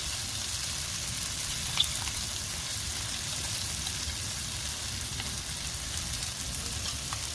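Ground masala paste sautéing with onions in a pan for a spicy chicken mappas, giving a steady, soft sizzle and crackle with no talk over it.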